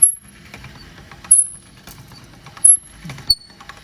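A hand-cranked pasta roller flattens dough for onion chips, giving soft mechanical rumbling and creaking with several sharp metallic squeaks and clicks spaced irregularly, close by.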